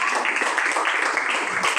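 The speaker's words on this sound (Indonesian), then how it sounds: "Tepuk tangan untuk saya dan Dinda" An audience claps together at an Indonesian church youth gathering, a steady dense patter filling the clip at close range with little talk.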